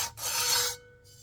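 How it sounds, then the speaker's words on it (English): A finger rubs around the edge of a ceramic bisqueware bowl, making a close, dry rasping stroke that swells and fades, then a fainter second rub after a short pause. "You can just take your finger and rub it around the edge and make sure you don't have any burrs."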